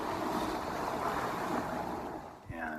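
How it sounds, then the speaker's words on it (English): Waves and rollers wash against a small solo sailboat crossing the Aegean Sea in choppy whitecapped water, a close, steady hiss and slosh with wind noise and a brief thump near the end. "starting to get a little white capping out here, and the rollers get pretty ugly between the islands here"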